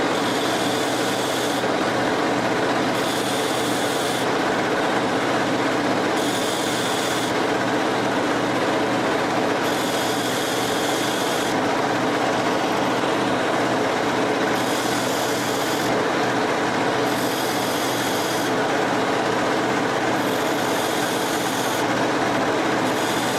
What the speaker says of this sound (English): I've got to grind these pins so they're the right length